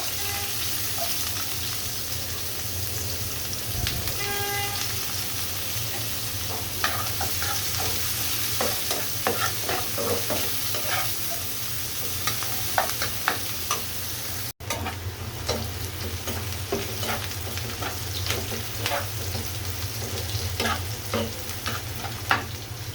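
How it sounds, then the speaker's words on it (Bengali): Ginger, garlic and onion paste with turmeric, chili and cumin frying in a pan, a steady low sizzle broken by frequent sharp scrapes and taps of a spoon stirring, close and moderately loud. "হালকা বাদামি কালার করে পেস্টটা ভেজে নিয়েছি"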